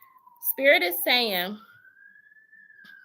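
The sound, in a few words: sirens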